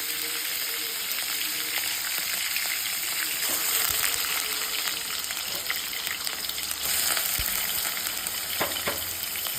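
Mutton liver frying in hot oil, a steady loud sizzle with crackling pops and occasional stirring scrapes throughout.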